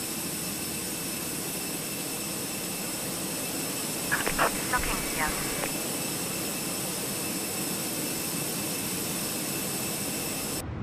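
An airliner's auxiliary power unit in a flight simulator game holds a steady, even whine and hum for the whole stretch, with a few brief faint clicks and knocks partway through.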